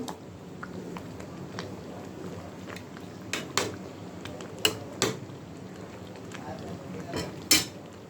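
Mango pickle being stirred in a pan, with a utensil scraping steadily and scattered sharp clinks against the metal over a low background hum.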